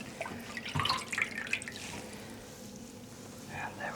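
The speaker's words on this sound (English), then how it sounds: "Just gently squeezing out the water." Water drips and trickles as a wet Corriedale wool batt is gently squeezed out by hand over a basin, giving soft, close splashes and patters in a few bursts at low volume.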